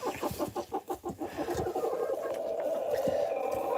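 Chickens in a barn clucking in a quick rhythmic run, then settling into a steadier murmur of softer clucks and a higher drawn-out call, moderately near and fairly faint, with no talking.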